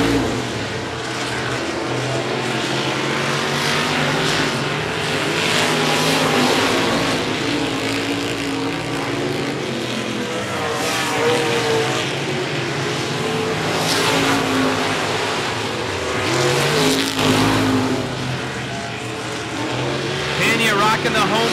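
Street stock race cars lap a quarter-mile oval speedway during a heat race, engines roaring steadily and loud throughout with rising and falling revs as cars pass, a commentator talking over the continuous engine noise.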